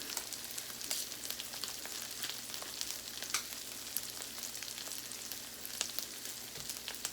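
Ground beef frying in a pan with steady, even sizzling and crackling, close and continuous, with a few louder pops.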